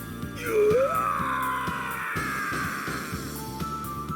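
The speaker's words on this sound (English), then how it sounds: "A blood-curdling scream echoed throughout the shrine." A blood-curdling scream rings out inside a shrine in the Di Gi Charat Fantasy video game, a long wailing cry that bends upward and then sustains over a pulsing music track.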